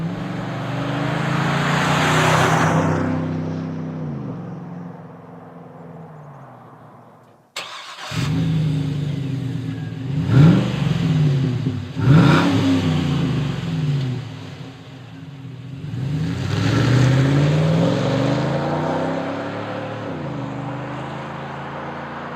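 A 2011-15 GM Silverado 2500HD/3500HD pickup with a 6.0L V8 and Flowmaster Force II cat-back exhaust, settling from a steady rumble, then restarting into a deep idle broken by a few throttle blips and a longer rev near the end.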